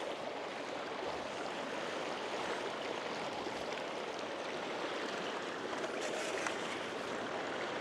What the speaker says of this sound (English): I keep getting surges in water flow here, and the water's actually coming down a little.